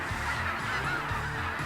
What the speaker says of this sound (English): The amount of birds still here amaze me.